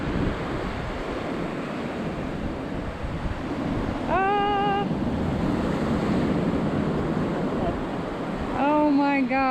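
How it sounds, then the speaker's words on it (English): Small ocean waves washing up on a beach in Denmark near a lighthouse, a steady close surf wash with wind noise on the microphone, and two brief high harmonic cries cutting through partway and at the end. "The waves weren't that big, but a few times I had to run away to not get my feet wet."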